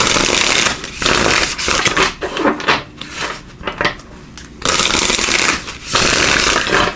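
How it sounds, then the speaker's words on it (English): Oracle cards being shuffled in repeated riffling bursts, close and crisp, with brief pauses between the shuffles and no voices. "Let's give these a good shuffle."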